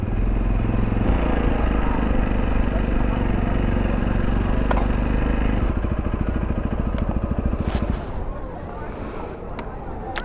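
A Sinnis Terrain T125 motorcycle engine idles steadily and loudly close by, then the rhythm shifts and the motor winds down as the bike is parked, leaving a quieter background with a few knocks and clatters.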